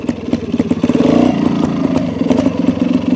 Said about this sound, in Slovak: Trošku si dám spojku, plyn a idem proste dole